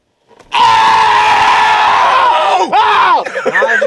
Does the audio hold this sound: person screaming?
yes